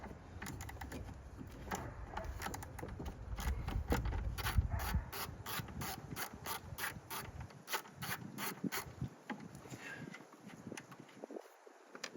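Ratchet wrench loosening 10 mm bolts on a 2011-2021 Jeep Grand Cherokee during an oil filter housing cooler job, rapid clicking bursts of the pawl close up, repeated in quick runs.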